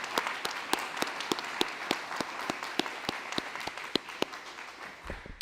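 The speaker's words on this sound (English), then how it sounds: "Let's take a moment for a round of applause." An audience at a Diocese of Arlington Respect Life Conference claps steadily in a room, a dense patter of many hands with sharper individual claps standing out, fading slightly at the end.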